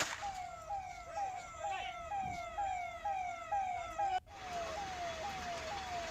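A fire brigade siren wails in repeated rising sweeps at a burning car at night. It sounds moderately distant over steady street noise and cuts off abruptly partway through, leaving a lower background hum.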